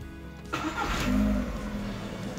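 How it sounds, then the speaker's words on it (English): A car engine cranks and catches, roaring briefly up to a loud rev before settling into a steady, close idle, with no talking, right after the throttle body has been cleaned in place. "Now it's time to start the engine."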